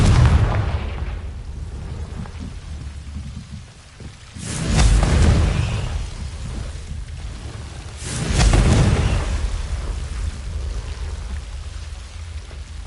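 Two loud, deep blasts from the Confringo spell in Hogwarts Legacy, each a broad booming burst about four seconds apart over a steady low rumble, with no voices.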